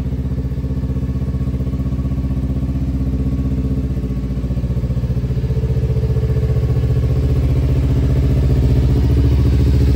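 A 2021 Kawasaki ZX-25R motorcycle with a Yoshimura exhaust idles close by, a steady, loud, fast-pulsing engine drone that rises slightly toward the end, with no voices over it.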